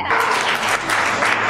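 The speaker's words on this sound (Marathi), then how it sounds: "जोरदार टाळ्या." A dense burst of applause from a group of people, loud and continuous throughout.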